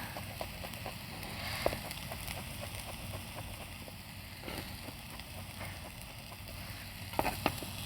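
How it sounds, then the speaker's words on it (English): Garlic sizzling in olive oil in a pan, a steady low crackle with a few sharper pops and stirring clatters, fairly quiet and heard without talk. "we'll just saute the garlic in the olive oil just for a few seconds"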